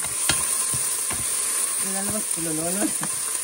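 Garlic and onions sizzle softly in a pan for beef pares, with a few clicks of stirring, while a person speaks briefly over the frying.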